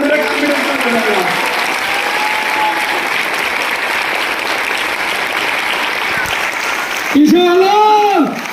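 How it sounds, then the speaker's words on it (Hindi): Audience applause fills a hall at a Modicare event in Panipat, steady and sustained, with a voice speaking over the clapping near the end. "आप सब तालियां बंद मत करो यार"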